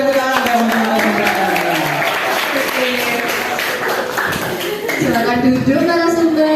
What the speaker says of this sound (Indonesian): Boleh tepuk tangan dong narasumber.